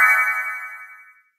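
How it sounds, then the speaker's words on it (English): A single bright doorbell chime strikes once, loud and close, then rings out and fades over about a second before silence. "Oh, that's the doorbell."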